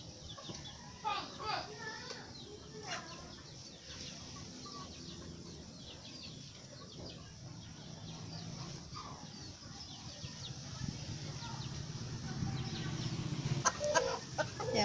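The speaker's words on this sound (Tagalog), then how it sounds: "Ang daming manok na cobra." Several chickens cluck and squawk intermittently nearby, with faint voices and background farmyard noise growing louder toward the end.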